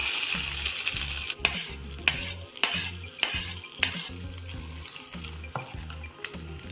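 Crushed garlic frying in a pan for a Gongura dal tempering, crackling and sizzling steadily while a utensil stirs with several sharp scraping clinks against the pan.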